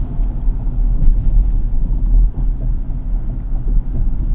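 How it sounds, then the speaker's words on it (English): Inside a 2025 Ford Ranger XLT pickup cruising on a highway, a constant low road and engine rumble fills the cabin, loud and steady, with light wind noise. "The ride is pretty smooth on the highway here too."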